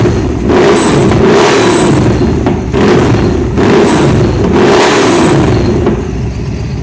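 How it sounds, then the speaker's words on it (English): A supercharged 2013 Victory Cross Country motorcycle engine runs loud and close, its blow-off valve venting in repeated whooshing bursts roughly every second and a half over a steady rumbling idle. "You can hear that blow-off valve."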